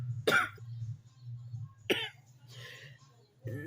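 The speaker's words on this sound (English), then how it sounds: "can't even cough in peace" Several separate coughs ring out close by over a low steady hum, with quiet breaths and pauses between them.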